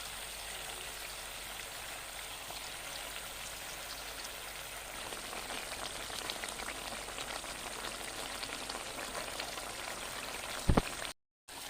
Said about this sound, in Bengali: ঝোলটা ফুটে উঠেছে, এর মধ্যে এবার ভেজে রাখা কোপ্তাগুলোকে দিয়ে দেবো।